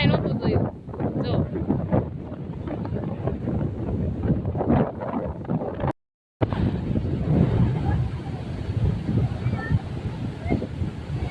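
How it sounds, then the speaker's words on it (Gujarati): Strong wind at a seashore with small boats roars and buffets the microphone in heavy gusts, with a short dropout midway and voices talking over it. "આ કુસોમાં એટલો બધો પવન છે."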